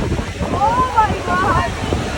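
Sea waves washing in at Udaypur beach, a steady rushing surf with wind buffeting the microphone and people talking nearby over the roar.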